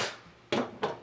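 A lid is set onto a stew pot on the stove, giving two quick close knocks about a third of a second apart, the first following a fading earlier clank.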